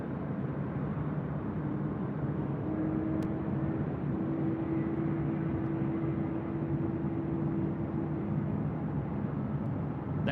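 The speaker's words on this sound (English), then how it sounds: "We do have the Korean Air other Super now taxiing up here to the north side." A Korean Air Airbus A380 Super taxis at LAX, giving a continuous, fairly distant jet engine rumble with a faint steady whine and no voices.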